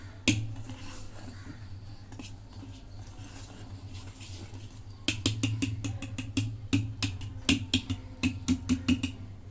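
A spoon works through custard cake batter in a bowl after half a spoon of vinegar goes in. Soft scraping gives way to a run of quick, light clicks and taps against the bowl, close by and with no talking.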